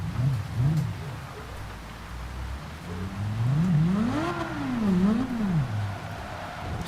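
A race car engine in Gran Turismo 7 endurance racing at the Nürburgring revs up and down in repeated rising and falling sweeps, climbing to a peak mid-clip before dropping, under a steady rushing background.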